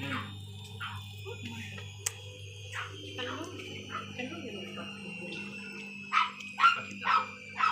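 A dog barks several times, the barks growing louder and sharper toward the end, with people's voices murmuring faintly earlier on.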